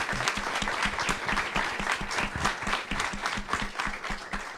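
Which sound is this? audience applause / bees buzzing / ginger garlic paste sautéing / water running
audience applause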